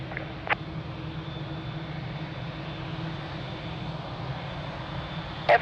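A passenger aircraft takes off from runway 02 at Lisbon Airport: a steady, even engine roar holds for several seconds, moderately distant, with a couple of faint clicks at the start and end and no voices.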